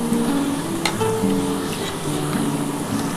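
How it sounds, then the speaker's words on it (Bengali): Onion and whole garam masala fry in the hot oil left from frying potatoes for a Bengali chicken curry, a steady close sizzle with a stirring clink partway through. "আলুটা যখন ভাজার পর যে তেলটা থাকবে সেই তেলের মধ্যে আমি পেঁয়াজটা দিয়ে দেবো।"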